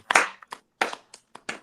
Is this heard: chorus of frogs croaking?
no